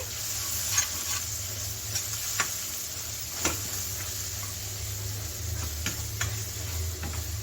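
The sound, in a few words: stirring cumin and garam masala in chicken gravy pan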